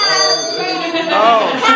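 A hand bell rings steadily for a Rotary holiday charity collection outdoors, a bright sustained metallic peal close by with voices in the background.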